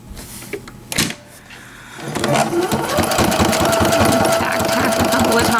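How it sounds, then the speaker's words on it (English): A sewing machine stitches elastic onto a cloth diaper: a few short handling noises and bumps at first, then a rapid, rhythmic mechanical stitching chatter starts about two seconds in and runs steadily and close until the end. "Make sure that you're not sewing over the other part of the diaper."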